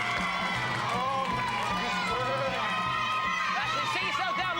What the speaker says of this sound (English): Come with me, give her a big cheer!